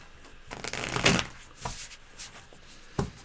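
A deck of playing cards being shuffled during a card game, giving a brief riffling burst of crisp flutter, then a couple of softer taps and slides close by, with no talk over it.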